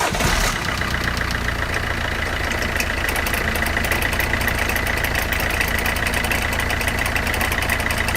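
A Peugeot 207 engine runs at a steady idle after a start, a continuous close mechanical drone with a rattly, knocking texture throughout.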